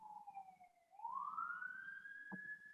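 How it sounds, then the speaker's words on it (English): A police siren wails at a distance, its pitch dipping and then sweeping upward into a long rising tone, faint against a quiet room. "there's a police siren in the background"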